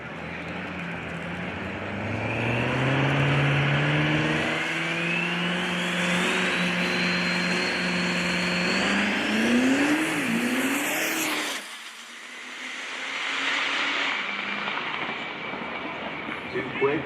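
A diesel pulling truck, the Duramax-powered Outlaw Diesel Revenge, roars at full throttle through a pull, its engine note climbing and straining loudly before dropping off, with an announcer talking over it and a brief renewed surge afterward.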